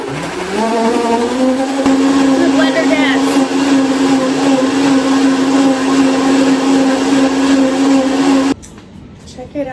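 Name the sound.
blender blending watermelon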